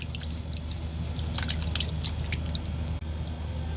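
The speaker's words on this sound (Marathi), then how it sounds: "आपण ही थोडी थोडी करून आहे ना स्वच्छ धुवून घेऊयात" Cut sweet potatoes are washed in water with close, scattered drips, splashes and squelchy handling over a low steady background, and no one talks.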